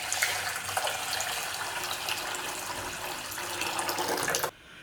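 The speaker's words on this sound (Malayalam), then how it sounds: "ഇനി ഇതിലേക്ക് നമുക്ക് ആവശ്യത്തിന് വെള്ളം ഒഴിച്ചിട്ട് കുതിർത്തിയെടുക്കാം" Water runs in a steady, close gush into washed basmati rice for soaking, continuing evenly for several seconds before it stops abruptly.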